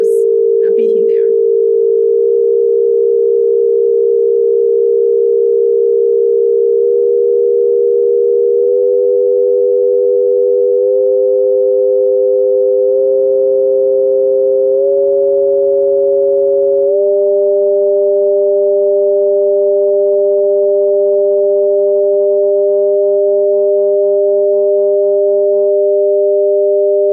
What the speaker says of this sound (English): if you listen to this sound, yeah, there's already like no like obvious beating there.